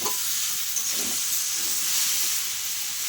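Shrimp and Malabar spinach curry sautéing with salt and turmeric in a pan, a steady close sizzle and hiss running throughout with a few faint stirring scrapes early on, no voices.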